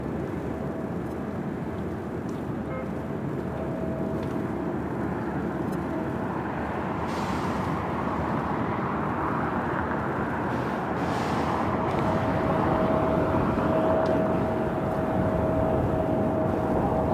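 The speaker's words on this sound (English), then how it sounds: "777 freighter now rolling down at 25 right" Boeing 777 cargo freighter taking off from runway 25 right at LAX, a steady broad jet roar that swells gradually toward the end, heard from a distance in open outdoor air.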